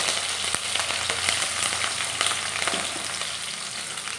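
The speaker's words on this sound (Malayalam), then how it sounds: "ഒരഞ്ച് പച്ചമുളക് അരിഞ്ഞത് അതിനകത്തേക്ക് ഇട്ട് കൊടുത്തു" Chopped green chilies fry in sesame oil with mustard seeds for a lemon pickle, making a steady, close, dense sizzle with faint stirring clicks and no voices.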